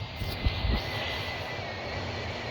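Aircraft engine in the Roblox game Project Flight, a steady broadband drone holding throughout with the throttle cut back on approach, a couple of brief low thumps early on, no talk.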